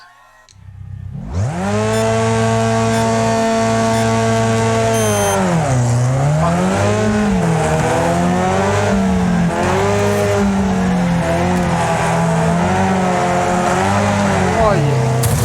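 Engines of demolition-derby race cars in Wreckfest roar loudly and continuously, revving up and down as they accelerate, with tire noise and a voice talking over them.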